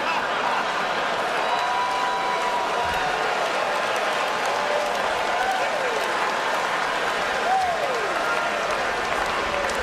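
Applause break sound effect on a sports talk radio show, a dense continuous wash of clapping lasting about ten seconds, with faint voices and brief tonal whoops underneath.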